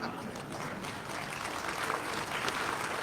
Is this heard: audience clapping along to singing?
yes